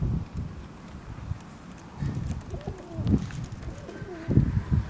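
Pigeons coo nearby in soft, throaty bursts that repeat in uneven waves on a frosty, sunny day, with a light breeze in the background.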